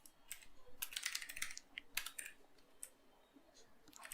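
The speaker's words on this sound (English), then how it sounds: "So we'll go ahead and use A on the keyboard maybe." Keys clatter on a computer keyboard in quick, uneven bursts of close clicks separated by short pauses, at a fairly low level.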